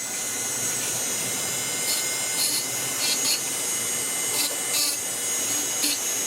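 A micro motor power carving tool runs with a ruby burr grinding into wood, giving a steady high whine with brief bursts of bite as the burr digs in, close and continuous.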